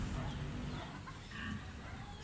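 Native chickens clucking at feeding time on a farm, several birds clucking close together under a person talking, with steady background noise.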